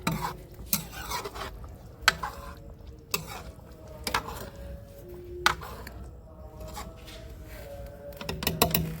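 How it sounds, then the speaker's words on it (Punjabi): Fried potatoes stirred into a spiced curry in a pan, with a spoon scraping and clinking against the metal at irregular intervals over a low, steady sizzle, close and fairly quiet, with no talking. "ਆਪਣੇ ਫਰਾਈ ਕੀਤੇ ਆਲੂ ਆਪਾਂ ਇਹਦੇ ਵਿੱਚ ਐਡ ਕਰ ਦਾਂਗੇ ਹੁਣ ਸਾਰੇ ਤੇ ਹੁਣ ਇਹਨੂੰ 5-4 ਮਿੰਟ ਆਪਾਂ ਹੋਰ ਪਕਾਵਾਂਗੇ"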